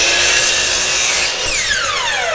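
A saw cuts through small wood pieces for a homemade sandpaper cutter, a loud, close, continuous buzzing rasp whose pitch sweeps downward as the blade slows near the end, with no talk.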